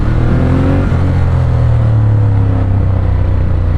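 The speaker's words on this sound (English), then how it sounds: "I'm sure you can hear the exhaust" Loud, steady engine drone with a deep rumbling exhaust note from a 2016 Ducati Monster 1200 S motorcycle, rising slightly as it accelerates, close and continuous throughout.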